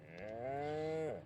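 A cow in The Sims 4 lets out a single drawn-out moo lasting about a second, close and clear, rising and then falling at the end, with no talk over it.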